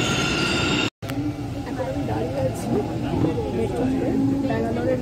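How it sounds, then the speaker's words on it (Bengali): Interior rumble of a Bangalore metro train running between Banashankari-area stations toward Vijayanagar, a steady low roar with faint wheel squeal and a brief dropout near the start, voices murmuring underneath. "এটা ব্যাঙ্গালোর মেট্রো ট্রেনের মধ্যে আমি রয়েছি"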